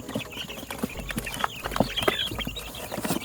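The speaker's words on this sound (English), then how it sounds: "Look at all those birds." Crowded baby chicks from a brooder clucking and cheeping in a busy overlapping chorus, many small calls and rustles close by with no talk.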